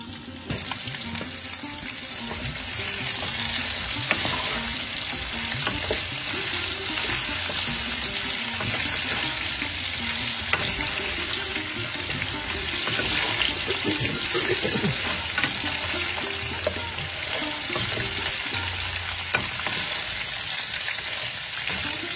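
Potatoes fry in a pan for a Bengali chhyachra vegetable dish, giving a loud, dense, continuous sizzle with crackling spits throughout and no speech.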